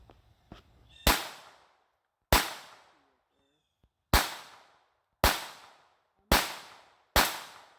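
Ruger SR22 pistol fired at steel targets from 30 yards: six loud, sharp shots with short ringing decays, spaced about one second apart with one longer pause, and no talking.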